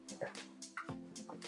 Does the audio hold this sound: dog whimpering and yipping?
yes